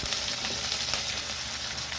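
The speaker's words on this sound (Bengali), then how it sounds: "পেঁয়াজটাকে ভেজে নিচ্ছি" Onions frying in hot oil with a little salt, over whole spices such as cumin, bay leaf, dried chilli, cinnamon, cardamom and cloves, give a steady, dense, close sizzle that holds evenly throughout with no voices.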